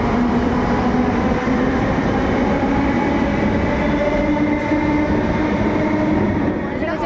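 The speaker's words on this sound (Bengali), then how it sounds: "আরেকটা এসে গেছে আরেকটা মেট্রো" A metro train rumbles steadily close by, a continuous low roar with faint rail hum, ending with a slight easing in the final second.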